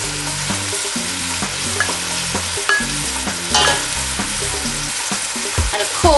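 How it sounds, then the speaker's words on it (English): Pieces of washed, butcher-chopped mutton sizzling in a hot pan for a Caribbean mutton curry, with continuous frying hiss and repeated scraping, clattering stirs throughout, fairly close and unaccompanied by talk. "Now we're going to add the mutton."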